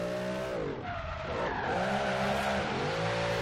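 A supercharged Cadillac Escalade in Forza Horizon 3 squeals its tires through a donut, a loud continuous skid over a revving engine drone that rises and falls in pitch.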